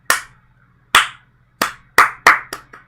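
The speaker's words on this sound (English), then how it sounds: "Slow clap." A slow clap: six or seven sharp, isolated hand claps, spaced out at first and then coming a little quicker, close and loud.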